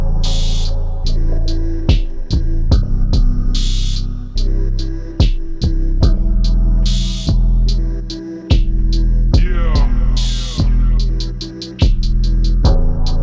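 Trap beat in an experimental Clams Casino style with a halftime effect on the master channel, slowed drums with heavy booming bass hits, sharp claps and bright synth stabs repeating in a dragging, stretched rhythm.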